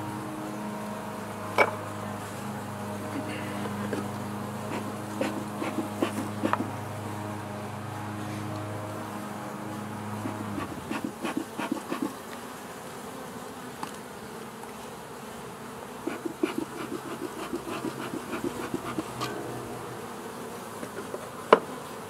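Honeybees swarming over an opened hive, a steady dense buzz close by with a low hum that fades midway, joined by scattered light knocks and clicks, no talking.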